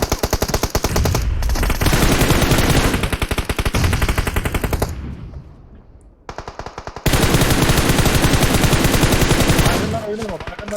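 Loud automatic gunfire from PUBG Mobile rattles in rapid sustained bursts, pauses briefly, then resumes just as intense, with voices faintly under the shooting.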